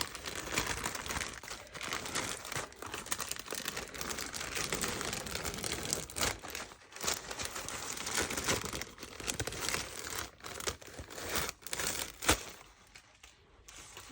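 Fabric is peeled away from a paper file folder, making a faint, continuous crinkling and tearing rustle close by, with small irregular crackles and no talk.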